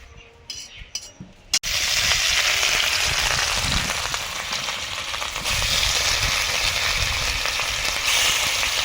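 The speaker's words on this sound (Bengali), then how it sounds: "কড়াইতে মাছের মুড়োটা ভাজছি।" A fish head fries in hot oil in a wok, giving a loud, steady sizzle and crackle that runs nearly throughout after a brief quieter start, with occasional clinks of a utensil.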